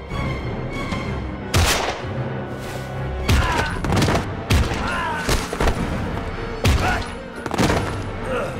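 Rapid bursts of gunfire from the Heavy Rain video game, a run of loud shots in quick succession mixed with game music and ambience, with a voice speaking briefly.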